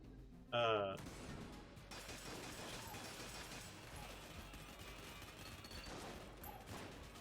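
Ricocheting gunfire in Enter the Gungeon, heard as a steady stream of faint shots and impacts. A sharp chirping burst sounds near the start and a voice talks over it.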